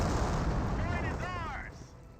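A 222 armored car firing in a Company of Heroes battle, heard as a dense, loud wash of gunfire and rumbling combat noise that runs throughout, with a brief whining, wavering tone rising partway through.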